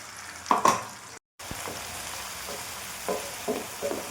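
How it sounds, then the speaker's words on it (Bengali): Masala gravy for fish tikka sizzling and frying in a pan with whole spices, a soft continuous crackle with a few louder stirring bursts near the start and a brief silent gap. "মশলাটাকে একটু ভালো করে গ্রেভিটা ভেজে ভেজে নেবো"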